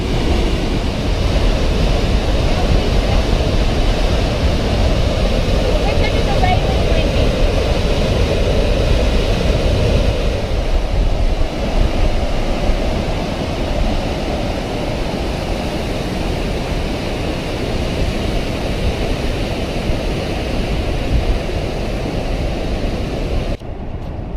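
Vernal Fall on the Mist Trail in Yosemite National Park roars as a steady, loud wash of rushing water, a dense unbroken broadband rumble filling the whole stretch with no voices over it.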